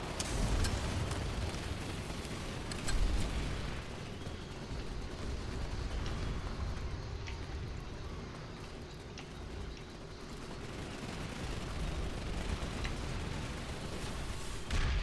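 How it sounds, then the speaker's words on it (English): Dense rumbling battle noise from the video game Planetside 2, with distant booms and scattered gunfire crackling continuously, a low, heavy wash of explosions and shots. "But I hear gunfire."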